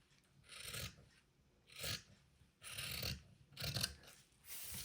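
Rotary cutter rolling through fabric in repeated rasping strokes, four or five close scraping bursts separated by short pauses.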